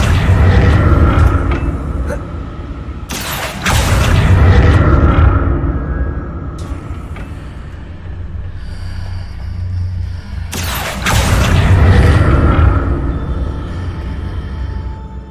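Confringo fire spells explode in the video game Hogwarts Legacy, producing loud, booming blasts with rumbling tails that swell and fade over a long stretch, with a fresh burst of impacts about every seven seconds.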